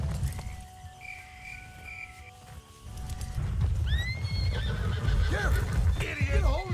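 A horse in Red Dead Redemption 2 whinnies loudly several times over clopping hooves and rustling, with voices talking and crickets faint in the background.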